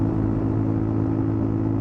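A 1000cc motorbike engine holds a steady, loud drone at around 6,500 RPM while cruising at the speed limit, a continuous rumble with no talking.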